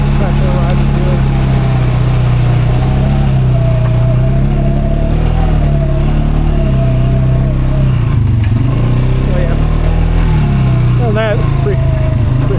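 A motorcycle riding through open fields, its engine droning loud and close with a steady mid-pitched hum that rises and dips as the throttle changes, mixed with wind noise.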